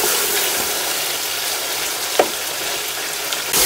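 Chicken pieces sizzle and fry steadily in a pan for korma pilau, a continuous crackling hiss with one brief sharp clink partway through and no voices.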